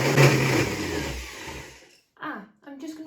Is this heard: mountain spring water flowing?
no